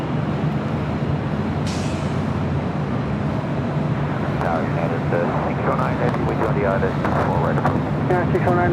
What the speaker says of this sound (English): We do have our second A380 of the day, Flight 11 coming in from Sydney, Australia.